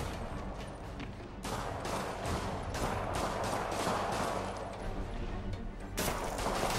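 Rapid gunfire fills a Spider-Man video game scene, a steady crackle of repeated shots that stays dense and fairly loud throughout with brief sharper bursts.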